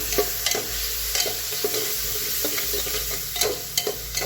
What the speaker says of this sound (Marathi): बघू शकता सर्व साहित्य आपण चांगलं परतून घेतलेलं आहे